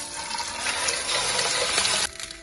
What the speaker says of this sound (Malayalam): അതിന് നികക്കെ വെള്ളം ഒഴിക്കുക.